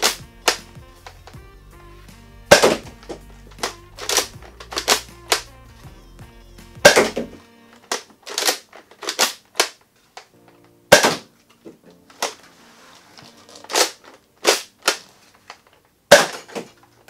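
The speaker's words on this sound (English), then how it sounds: "let's go ahead and fire this thing because I've talked about it enough" A Nerf Rival Jupiter XIX-1000 sniper-style blaster fires foam balls in a series of sharp, loud snapping shots, roughly fifteen spread irregularly, with quieter mechanical priming clacks between them and no voices.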